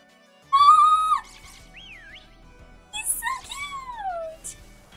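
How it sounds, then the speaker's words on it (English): Someone whistles at a corgi Pokémon in Pokémon Shield: a sharp rising whistle, then a wavering call, followed by a second burst of bright whistled tones sliding downward, loud and close over quiet game sounds. "so I whistle at the corgi."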